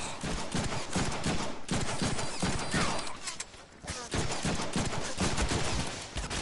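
Dense, loud gunfire from the Deadpool video game, sustained rapid volleys of shots with a short lull midway before the shooting resumes just as hard.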